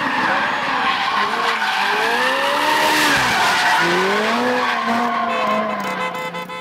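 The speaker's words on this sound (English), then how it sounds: "That Ferrari drifting was off the hook" A Ferrari drifting, with loud, sustained tire squeal and a revving engine whose pitch sweeps up and down. It sounds close and continuous, with no talking.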